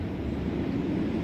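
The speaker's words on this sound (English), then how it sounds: "There's a lot of airplanes where I'm at" A steady, broad roar of airplanes passing overhead near a city park, loud and continuous for the whole short stretch with no break.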